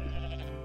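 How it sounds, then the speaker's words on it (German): A single goat bleat, loud and close, in a sustained nasal tone that lasts under a second with nothing else heard. "okay, das war die Ziege"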